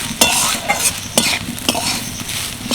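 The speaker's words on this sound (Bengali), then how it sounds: "এবার মিক্সি করে রাখা সয়াবিনগুলো দিয়ে দেবো একটু নেড়ে ছেড়ে নিচ্ছি" Ground soybeans, blended for momo filling, fry in a pan as a spatula stirs them, giving a steady sizzle cut by repeated scraping strokes against the metal.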